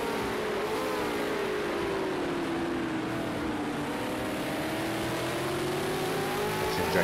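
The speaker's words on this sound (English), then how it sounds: "hear them light up the rear tires as I get acceleration now" A race car in a Bathurst 1000 sim-racing session spins its rear tyres under acceleration, with a loud, steady engine drone and a whining pitch that dips and climbs again, close and continuous with no talk.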